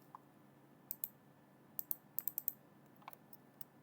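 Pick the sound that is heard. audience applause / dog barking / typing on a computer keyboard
typing on a computer keyboard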